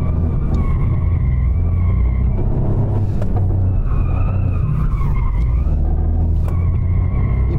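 A Toyota GR Yaris rally car on rally and tarmac suspension corners hard on a track. Its tires squeal loudly and repeatedly over a heavy, continuous engine rumble, with no talking.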